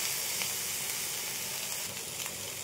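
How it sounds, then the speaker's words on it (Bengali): Capsicum, tomato and onion frying in butter over high heat, a steady, close sizzle that hisses evenly throughout with no talking. "ক্যাপসিকাম, টমেটো আর পেঁয়াজ এইভাবে কেটে ফ্রাই করে নেব মোটামুটি 50 সেকেন্ড বা 1 মিনিট।"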